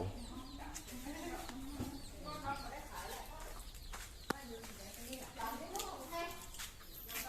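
Quiet chicken clucking at a pottery village in Phayao, Thailand, a run of short, wavering calls close by, mixed with soft talking in the background.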